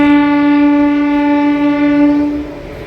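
A MEMU train at Nadikudi junction platform sounds a loud, steady horn blast that holds for nearly three seconds before easing off, with no voices over it.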